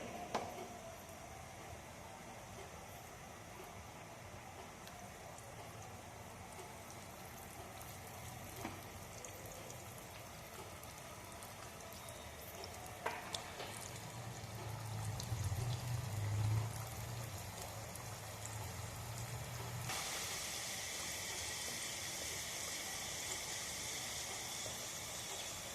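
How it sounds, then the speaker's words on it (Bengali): Dahlia pitha flowers frying in warm oil as hot oil is spooned over them, a steady soft sizzle and bubbling that thickens and brightens midway, with no voices. "এইভাবে গরম তেল কিন্তু এই ফুলের উপরে দিয়ে উপরে ফুলগুলোকেও ভালো করে ভেজে নেব"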